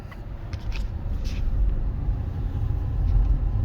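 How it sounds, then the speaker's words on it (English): A steady low grinding rumble from inside a moving 2004 Buick Rendezvous with a worn wheel bearing, constant and droning throughout with road noise and no talking. "grinding, rumbling type airplane taking off type noise. That's a wheel bearing."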